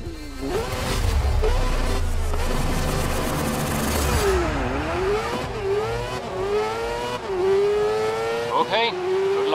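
Race cars in the video game Grid 2019 revving and accelerating off the start line, several engines roaring loudly together with rising and falling pitch sweeps as they change gear and pull away, with a tire squeal and a voice talking over the engines.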